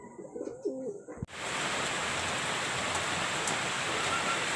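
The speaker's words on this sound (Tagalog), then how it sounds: "Bumagsak na yung napakalakas na ulan." Heavy rain bursts in abruptly after about a second of quiet cooing from pigeons in a coop, then pours as a dense, loud, steady hiss that drowns out everything else.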